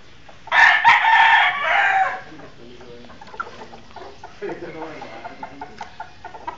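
A chicken crows once, loud and close, in a strained, drawn-out call that lasts about a second and a half. Quiet background sounds and scattered talk follow.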